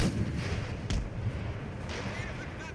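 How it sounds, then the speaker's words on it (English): Cannon fire from a fort in Empire: Total War rumbles as a dense, continuous battle din with a couple of sharper booming shots, and a voice talks over it. "our general died from cannon ricochet from the fort"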